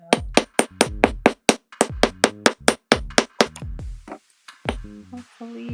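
Metal hammer striking a wire-wrapped pendant frame for a labradorite pendant resting on a sandbag, a rapid series of sharp, close, ringing taps followed by a few slower, scattered blows.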